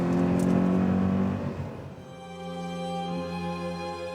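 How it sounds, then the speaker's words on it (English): A Toyota GT86 drifts with its engine held at high, steady revs, first straining loudly, then settling into a sustained harmonic drone with a faint tyre whine. "You could drift this car while reading a book. So I did."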